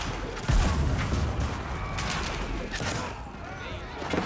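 Video game battle with hand cannoneers firing on great bombards: a dense, continuous roar of gunfire and cannon blasts, with a heavy boom near the start and overlapping shots throughout.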